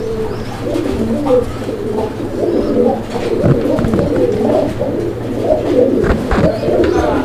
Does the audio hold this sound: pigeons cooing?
yes